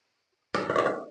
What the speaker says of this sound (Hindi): और जखनी डालेंगे इसमें।